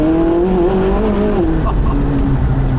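McLaren 675LT Spider twin-turbo engine accelerating hard, a loud close rising engine tone with shifting harmonics that dips and settles as the car pulls.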